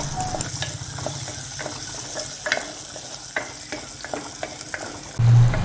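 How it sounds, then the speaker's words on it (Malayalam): Ten to fifteen small onions sauté in a pan, giving a steady close sizzle broken by frequent scraping stirs, with a brief louder thump near the end. "അതൊന്ന് ഇട്ട് കൊടുത്തിട്ട് നന്നായിട്ട് തന്നെ ഒന്ന് വഴറ്റിയെടുക്കണം."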